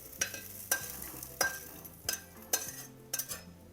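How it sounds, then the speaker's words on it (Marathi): Hyacinth beans dry roasting in a pan while being stirred, with about seven sharp scraping clatters of the spoon against the pan at a steady rhythm over a faint crackle, close by and with no talking. "घेवडा टाकते आणि घेवडा पण भाजून घेते"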